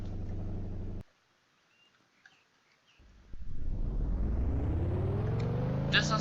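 A Porsche engine in a driving video game cuts off abruptly, then after a short silence rises in a loud, climbing rev that builds steadily toward a high pitch.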